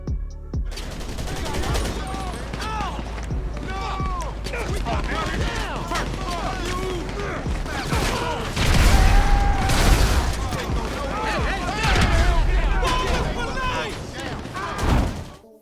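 Heavy weapons fire in GTA 5, with repeated booming shots and bursts running throughout beneath someone talking steadily over the action.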